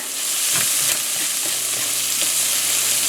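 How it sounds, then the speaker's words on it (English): Spinach leaves and tomato fry in a cast iron pan for an omelette, giving a steady close sizzle with a few soft stirring scrapes throughout, and no voices. "The spinach leaves and the tomato is not going to take very long at all to fry up."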